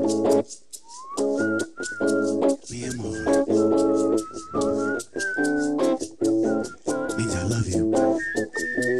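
A person whistling a bright melody line in a pop song over a steady backing beat and chords, the tune rising and sliding in short phrases, clear and up front, with a sung vocal also heard.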